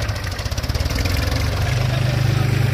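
Two tractors, a Powertrac Euro 45 Plus 4WD and a New Holland Excel 4710 4WD, driving in high third gear, their diesel engines throbbing in a steady pulsing drone that grows louder and closer.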